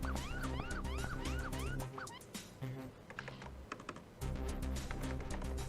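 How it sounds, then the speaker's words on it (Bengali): A police siren outside wails in rising and falling sweeps, then fades behind busy computer keyboard typing and music from a laptop indoors before returning with the clatter. "বাইরে পুলিশের সাইরেন বাজছে"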